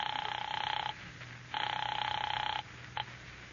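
An old-fashioned telephone bell ringing, two long electric rings separated by a pause, then a brief short ring, fairly clear against a quiet background.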